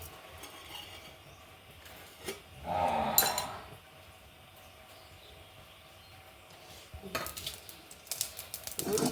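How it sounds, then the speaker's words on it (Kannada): Mustard seeds splutter in hot virgin coconut oil in a pan for an aloo capsicum palya, with a burst of crackling pops, a quieter stretch, then a fresh run of spitting near the end. "ಸಾಸಿವೆ ಹೊಟ್ಟೈತಲ್ಲ, ಹೋಳು ಹಾಕೊಂಬ ಇದಕ್ಕೆ."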